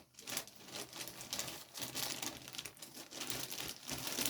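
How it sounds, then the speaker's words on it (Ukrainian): Plastic crinkles and rustles continuously up close, with irregular crackling bursts as a bag is handled and folded. "сейчас пакетик назад положу"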